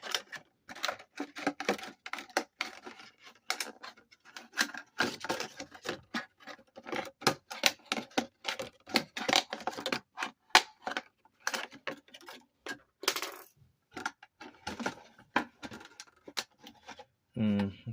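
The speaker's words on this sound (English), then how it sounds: "I'm going to cut even deeper into this because I need as much room to work as I can get" Sheet aluminum for a Ferrari body is cut with snips in quick bursts of sharp, crisp clips and scratchy metallic snaps at close range, and someone talks intermittently between the cuts.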